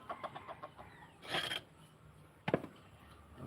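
Chickens cluck softly around a garden plot during a sweet potato harvest, with a couple of brief, slightly louder bursts among faint background noise.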